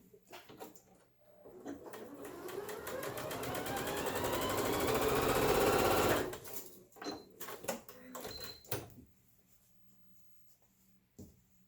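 A sewing machine stitches fabric scraps together for a flamingo tote bag, running in a steady rising burst for several seconds before stopping, followed by quieter handling clicks and rustles.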